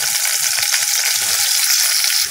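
Paneer frying in about a spoonful of oil in a kadai, giving a loud, steady, close hiss and sizzle with a few faint low clicks underneath.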